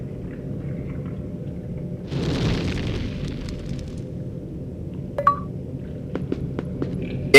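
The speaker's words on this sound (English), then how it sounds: "The Incendio spell casts fire. Burn everything." The Incendio fire spell in the PS2 game Harry Potter and the Sorcerer's Stone erupts as a rushing, roaring whoosh of flame over a constant low game rumble, followed by a few sharp chimes and clicks.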